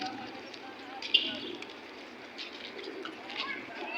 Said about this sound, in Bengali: মদিনায় মসজিদে নববীর পাশেই যে পায়রাগুলো, হ্যাঁ, হাজার হাজার পায়রা আছে এখানে।